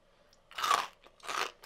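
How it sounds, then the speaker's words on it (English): Two crunchy bites into a fried cauliflower buffalo wing, each followed by a short burst of close crisp crunching, with a quiet pause between and no talking. "Oh, another crunchy bit for me to eat."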